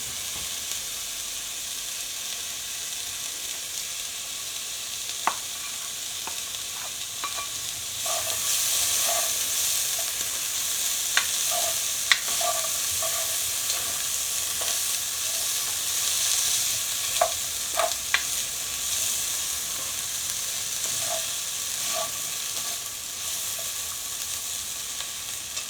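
Peppers sizzle steadily in a cast iron pan, a constant frying hiss that swells partway through, with occasional scraping clicks as they are stirred.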